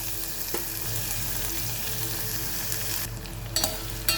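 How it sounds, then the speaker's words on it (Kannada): Chutney ingredients fry in a pan over a medium flame, a constant crackling sizzle broken by occasional sharp clicks and stirring scrapes, with no voices. "ಒಂದು ಮಿನಿಟ್ ನೀ ಇದರಲ್ಲಿ ಬಾಡಿಸ್ಕೋಬೇಕು ಮೀಡಿಯಮ್ ಫ್ಲೇಮಲ್ಲಿ"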